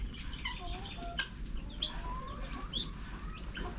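Native Darag chickens cluck and chirp in a busy flock on a farm, with overlapping calls from several birds close by against steady outdoor background noise.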